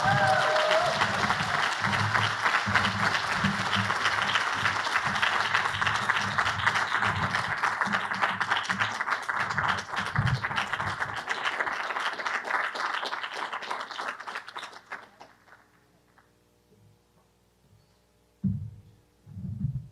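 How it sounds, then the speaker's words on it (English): An audience at an education summit in a college hall gives sustained applause for about fifteen seconds, a dense, fairly loud wash of clapping that fades out, followed by a few soft thumps near the end. "Let's give her a hand clap as President Z."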